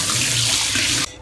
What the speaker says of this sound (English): It's time to wash my plate.